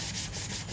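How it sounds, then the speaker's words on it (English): A machine sander works over a piece of clone armor, giving a steady, close rubbing grind with brief rhythmic surges. "I take a machine sander,"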